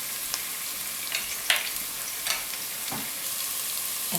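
Kalonji seeds, chili flakes and dry methi leaves sizzling in hot oil, a steady bright hiss with a few soft stirring scrapes, close up and with no one talking.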